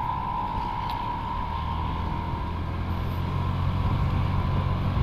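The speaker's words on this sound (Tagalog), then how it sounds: "Grabe naman tong tunog ng sasakyan niya." A loud vehicle engine drones steadily on a road, passing close by a rider's scooter among racing traffic, its black exhaust smoke trailing, with a continuous low rumble and a persistent hum throughout.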